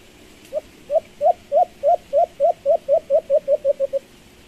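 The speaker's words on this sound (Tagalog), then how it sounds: "Ganito pala yung huni ng isang baylan mga paps." A baylan bird gives a quick, even run of about a dozen short, similar call notes, close and clear against a quiet background with no talking.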